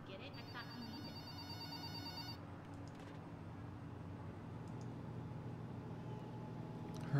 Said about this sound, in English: Heard a phone ringing.